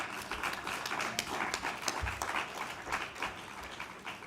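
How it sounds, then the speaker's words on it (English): A National Indigenous Peoples Day audience applauds the panel, steady close clapping with a few louder claps standing out, no voices over it. "Please have everyone, a round of applause for the panel, please."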